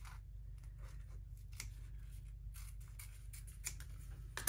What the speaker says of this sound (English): I think what I'm going to do is cut this